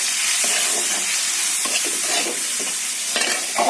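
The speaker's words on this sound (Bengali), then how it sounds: "এবার মশলাটাকে একটু কষিয়ে নেব" Spice paste made with chilli powder, cumin powder and salt sizzles loudly in a pan as it is sautéed, a dense continuous hiss with intermittent stirring scrapes close by.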